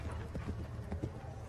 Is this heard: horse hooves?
yes